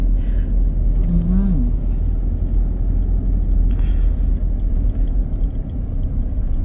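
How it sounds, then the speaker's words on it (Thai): A car drives uphill on a rural road, a steady loud low engine rumble throughout while someone talks over it. "นี่เราก็ขับขึ้นเนินกันอีกนะคะ"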